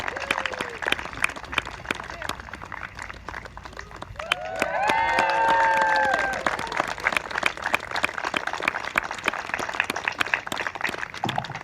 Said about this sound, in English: Let's give everybody a round of applause as Jaylene goes ahead and cuts the ribbon.